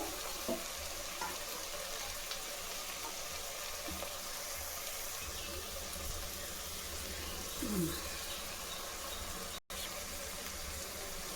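Soya chunks for a vegetable biryani fry and get stirred in a pan, making a faint, continuous sizzle with an occasional soft scrape, and no speech.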